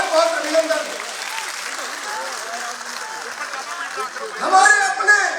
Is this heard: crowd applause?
yes